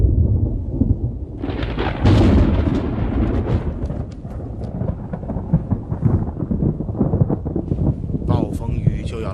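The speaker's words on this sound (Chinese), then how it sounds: "暴风雨就要来了" Thunder from an approaching storm rolls in a deep, continuous rumble, with a louder crack early on, over a steady wash of rain and wind noise.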